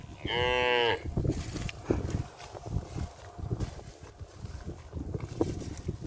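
One loud, close moo rises from a herd of 900 cattle grazing open pasture, then gives way to gusty wind noise and low rumbling.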